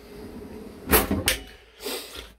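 A cutlery drawer in the kitchen of a Rimor 98p campervan slides open with a couple of quick knocks and rattles, followed by a softer clack, close and brief with no talk over it.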